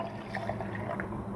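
Water poured into a glass or container for a milkshake, a close, steady gurgling fill lasting just over a second.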